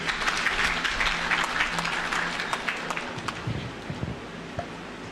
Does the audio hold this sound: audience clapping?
yes